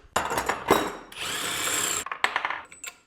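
An impact power tool backs a bolt out of a Nissan 240sx subframe, short clattering bursts followed by a steady whirring run of about a second, then a few rattling clicks and metallic taps.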